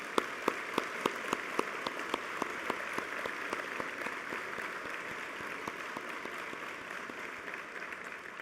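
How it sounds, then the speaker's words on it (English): Steady applause from a museum audience at a Veterans Day ceremony honoring veterans, sustained clapping with sharp individual claps standing out over a dense, even wash, loud and continuous throughout. "give our veterans a big round of well-deserved applause"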